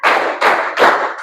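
Three quick bursts of hand clapping ring out in a classroom group exercise, loud and close with short gaps between them, with no talk over them.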